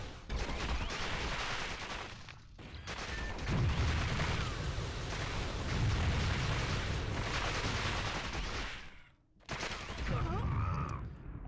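Sustained gunfire and explosions from the Warhammer 40,000: Fire Warrior shooter game, a dense, loud barrage running almost continuously with a brief cutoff near the end before resuming.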